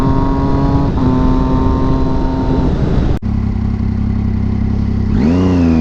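A 2006 Triumph Daytona 675 motorcycle's engine drones loud and close at high revs, holding a steady tone for several seconds, then briefly cutting out and climbing again in a fresh rising rev.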